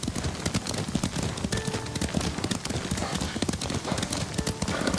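Horse hooves clatter in a rapid galloping rhythm in the video game Ghost of Tsushima, steady and fairly loud, with a rushing background noise throughout.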